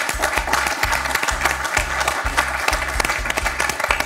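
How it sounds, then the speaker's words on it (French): A TV quiz show studio audience gives steady, dense applause, loud and continuous throughout with a rhythmic low thumping beneath. "On peut applaudir Gabriel, qui s'est bien battu."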